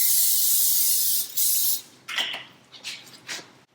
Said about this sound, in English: Yeah, just a little spray.